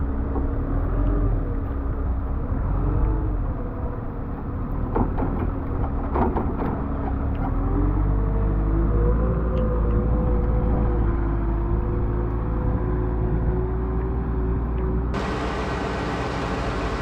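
A Giant compact wheel loader runs at a steady engine drone, loud and continuous throughout, with brief clanks near the middle and the pitch rising slightly as the machine works, no talk.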